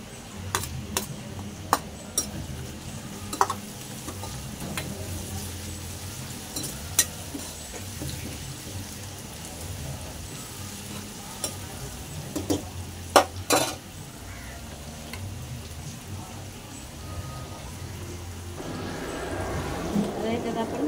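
Onion frying with ginger garlic paste in a pan gives a soft continuous sizzle, broken by sharp clicks and scrapes of a spoon against the metal, close by, with a louder hiss building toward the end.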